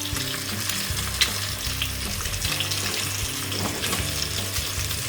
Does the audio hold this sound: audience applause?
no